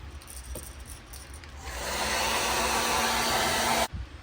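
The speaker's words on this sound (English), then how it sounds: "I'm gonna dry it off with a hair dryer." A hair dryer switches on and blows with a steady whooshing whir for a couple of seconds, then cuts off abruptly, drying a freshly painted fishing lure.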